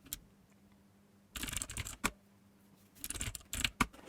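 Computer keyboard typing in two short clusters of quick clicks, fairly faint and close, separated by quiet pauses.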